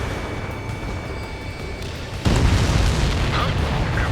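Explosion of a destroyed enemy transport in the Ace Combat 7 flight game, a sudden loud boom bursting over a steady engine drone and rolling on into a sustained rumble.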